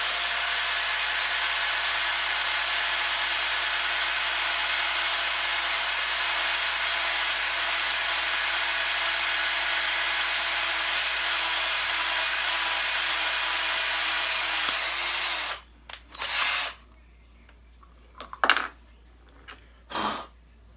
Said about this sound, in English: There's the one I drilled with just a regular drill bit.